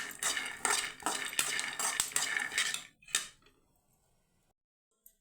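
Peanuts roasting in a pan are stirred with a metal utensil in a quick series of rattling scrapes and clinks, close and clear for about three seconds before fading to near silence.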